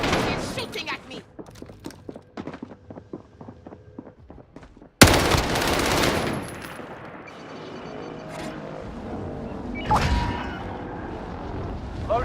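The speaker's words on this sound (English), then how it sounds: "He's shooting at me." First-person shooter gunfire: rapid automatic bursts crackle early, then a loud blast and more shots ring out, with a voice talking over the chaotic battlefield.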